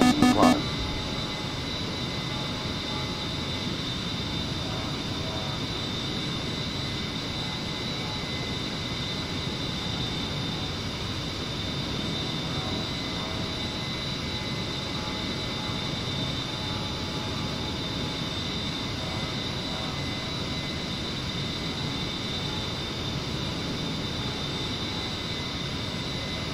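An A-10C jet in the DCS flight simulator drones steadily with a continuous broadband engine roar and high whine, constant and unbroken throughout, after a brief click at the start.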